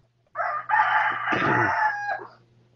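A rooster crows once, loud and close, a long drawn-out call rising and falling over about two seconds against a quiet background.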